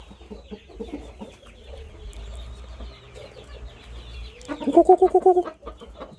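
A quick run of about eight sharp clucks from Burmese chickens sounds close by, rising out of a quiet farmyard background with faint scattered chatter.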